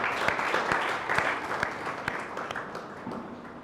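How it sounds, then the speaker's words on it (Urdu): A church congregation at a Pentecost Sunday service claps loudly, a sustained crowd of hands with sharp individual claps standing out, easing slightly toward the end. "ذرا زوردار تالیاں بجائیں، اوپر والے بھی بجائیں ذرا زوردار"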